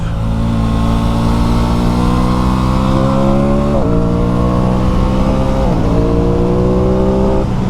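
An Aprilia Tuono motorcycle engine revs up continuously, pitch climbing steadily with two quick gear-shift drops, close and unbroken.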